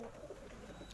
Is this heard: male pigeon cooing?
yes